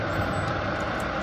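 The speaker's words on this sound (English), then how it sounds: "so I turned on the ventilator on my laptop" Laptop cooling fan running as a steady, even whooshing hum that stays constant throughout, fairly faint and without other sounds.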